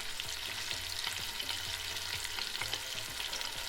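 Chunks of veal osso bucco sear in a Cookeo multicooker with a steady, dense frying sizzle, broken by intermittent clunks as the pieces are turned, all close up and without any talk.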